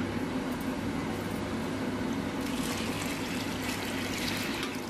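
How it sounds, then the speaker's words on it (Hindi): Water poured into a pressure cooker over soaked whole masoor lentils, a steady close trickling wash running throughout with a low hum underneath. "तो इसमें पानी ऐड कर दें।"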